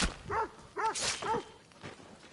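A dog barks in Assassin's Creed Odyssey, three quick close barks in a row and then a fainter yelp, over a low background hum, with no talk.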